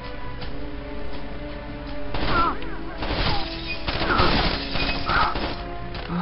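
Gunfire from the video game Rainbow Six Vegas 2, with bursts of loud shots and impacts crowding the middle and end of the stretch over a steady game background.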